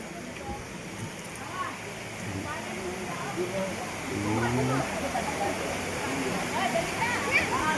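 Pulang Bato Falls in Valencia, Negros Oriental, rushes as a steady broadband roar of falling water, with faint voices nearby.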